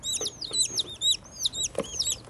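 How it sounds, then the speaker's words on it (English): Young chickens, Easter Eggers, peep and chirp rapidly in high, overlapping calls, close by and fairly loud. "We bought chickens."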